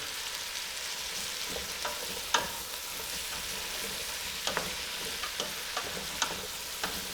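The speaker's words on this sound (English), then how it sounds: "here goes the garlic, and the serrano pepper, the ginger" Garlic, serrano pepper and ginger frying in a pan for a Surinam-style peanut soup, giving a steady close sizzle with scattered crackles and pops and no talk.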